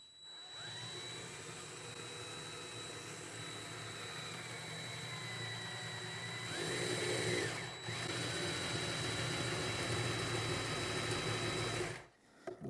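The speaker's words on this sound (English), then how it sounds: "Just using a regular drill." An ordinary electric drill bores into a stainless steel sink through a puddle of 3-in-1 oil. It makes a steady motor whine with a grinding, rising pitch as the bit bites, running continuously and then cutting off at the end.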